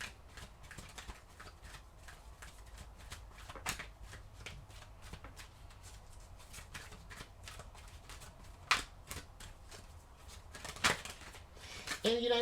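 Tarot cards are shuffled and drawn on a tabletop, a steady close run of soft riffling and flicking strokes with a few sharper snaps toward the end.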